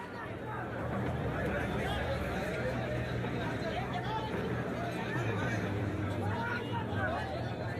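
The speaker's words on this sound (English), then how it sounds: "So at rush hour, the stations are swarming with people." Rush-hour crowd of commuters packed into a Mumbai railway station, a continuous murmur of many overlapping voices with a low steady rumble underneath, held at an even, moderate level throughout.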